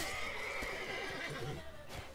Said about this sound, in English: Calm down, horse.